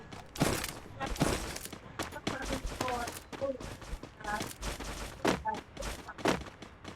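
Video game gunfire comes in sharp, loud bursts of rapid shots scattered across the stretch, mixed with other game effects and a voice talking in between.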